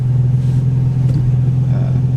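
A Nissan 350Z fitted with a 370Z Y-pipe exhaust and an oil cooler idles steadily while warming up, a close, continuous low rumble with no revving.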